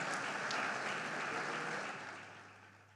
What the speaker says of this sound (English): Please give a warm round of applause for Sterling Bank.